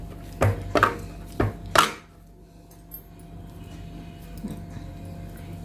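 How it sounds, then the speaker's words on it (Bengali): Knife chopping soft bread dough into small portions for gulab jamun, four distinct close cuts in the first two seconds, then quiet kitchen background. "এখন আমি এগুলোর থেকে লেচি কেটে নেব।"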